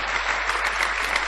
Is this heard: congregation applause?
yes